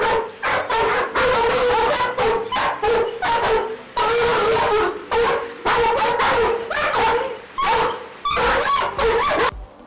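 Guard dogs on a Kenyan poultry farm barking, yipping and whimpering up close, a loud rapid run of overlapping barks and whines with short pauses between bursts.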